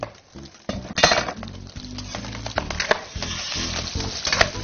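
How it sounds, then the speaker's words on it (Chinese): Pork fat renders and sizzles in a wok with star anise, scallion and ginger, a steady frying crackle under clinks and scrapes of a metal spatula against the pan, with no talking. "大家这一炼油一出，它就开始响了啊"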